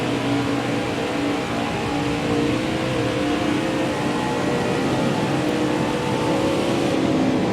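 Race car engine drone and rushing air in NASCAR Heat 4 at Auto Club Speedway, a steady, loud sustained engine tone with a whooshing wind layer throughout, no talking.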